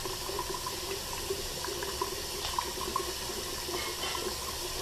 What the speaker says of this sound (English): Wash your hands in warm water.